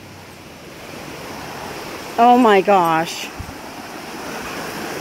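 Rushing water at Amicalola Falls makes a steady broad roar through the whole stretch, with a brief exclaiming voice and a short animal-like cry partway in.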